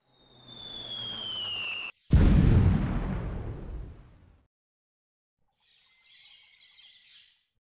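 Artillery explosions from a strike in the video game Delta Force Land Warrior: one loud, sudden blast that rumbles and fades over about two seconds, after a steady whistling tone, with faint chirping noises later.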